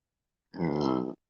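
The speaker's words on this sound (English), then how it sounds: "Oh man, buttermilk burp." One loud, close burp right after chugging buttermilk, about half a second long with a rough, throaty rumble, preceded by silence.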